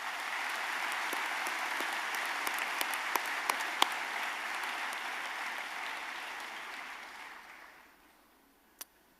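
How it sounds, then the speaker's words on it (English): Sustained audience applause at the Missouri Boys State 2024 closing ceremony, honoring board and staff members; steady broadband clapping from a large crowd that fades out near the end, with a few sharper claps standing out. "Please give them a round of applause."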